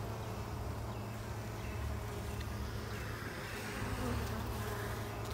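Honeybees from a colony with a laying worker buzz around a hive frame, a steady, fairly soft swarm hum close by that holds unbroken throughout.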